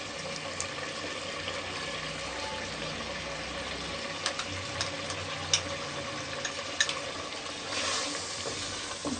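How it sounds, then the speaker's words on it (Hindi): Ghee goes into a pan of Pakistani lauki gosht, bottle gourd and meat curry, giving a soft, steady sizzle with occasional stirring clicks and scrapes, fairly quiet and without voices. "साथ ही हम घी भी डाल देंगे।"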